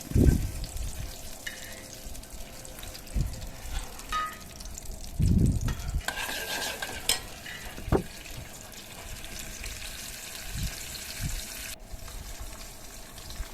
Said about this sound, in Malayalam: അണ്ടിപ്പരിപ്പ് കിസ്മിസും ആ നെയ്യിൽ വറുത്ത് കോരി വെക്കണം